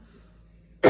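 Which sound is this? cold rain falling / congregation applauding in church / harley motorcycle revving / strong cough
strong cough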